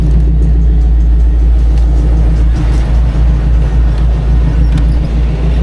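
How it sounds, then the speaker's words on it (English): A Ford Mustang engine on a New York City street, a steady loud low rumble that swells slightly as it revs, with faint traffic around it. "Nice Mustang. Let's go rev it."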